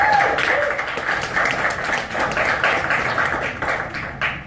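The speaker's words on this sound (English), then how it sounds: "everybody give a big round of applause for our Mandy Lacklen" Comedy club audience applauding a comedian at an offbeat comedy show, a steady, loud wash of clapping lasting throughout, with a few whoops or voices mixed in at the start.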